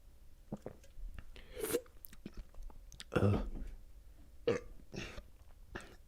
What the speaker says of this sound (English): More burp time.